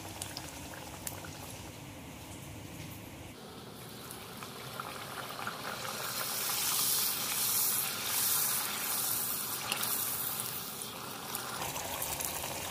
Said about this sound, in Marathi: पुरी थोडीशी अशी तेलामध्ये दाबतच तळायची, म्हणजे ती चांगली फुलते.